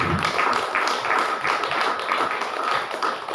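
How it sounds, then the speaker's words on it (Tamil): A crowd applauds spiritual guide Father John Joseph, with steady, dense clapping that fills the whole stretch at an even volume. "அவருக்கு ஒரு கைத்தட்டங்களை பார்ப்போம்"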